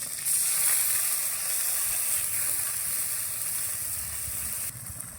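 Water splashes into a hot pan of bay leaf and cumin tempering, setting off a loud, steady sizzle and hiss of steam that holds for about five seconds before easing slightly at the end.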